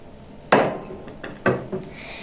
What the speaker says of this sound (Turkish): Şimdi patlıcanımızı dökeceğiz.